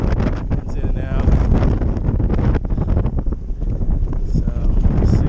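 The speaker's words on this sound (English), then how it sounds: "Winds in and out." Gusty wind buffets the microphone while kitesurfing with a 12m Switchblade kite on a Duotone Spike board, a rough continuous roar rising and falling, with speech mixed in.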